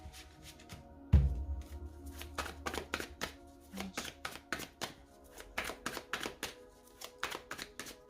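Tarot cards being cut and shuffled by hand, giving a rapid run of crisp snapping and riffling taps that begins after a low thump. The taps come in quick irregular bursts, close and moderately loud, and no one speaks.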